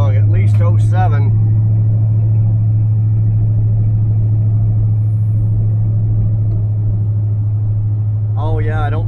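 A 1977 Chevrolet Malibu Classic rumbles on its first test drive, a loud steady low engine drone heard from inside the car, with brief speech at the start and again at the end.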